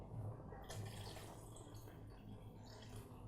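Water pours and splashes into a cooking pot of thickening stew, a soft continuous trickle with light dripping, heard close and alone.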